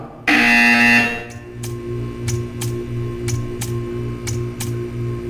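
A loud, harsh electronic buzzer in Portal 2 blares for about a second, then a low hum continues with a series of sharp ticking clicks at a steady pace.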